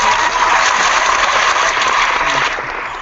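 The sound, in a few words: applause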